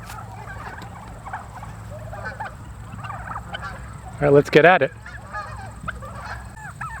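Organic turkeys out on pasture on a farm, with a short burst of loud gobbling and honking calls mid-clip over steady outdoor background, while people talk nearby.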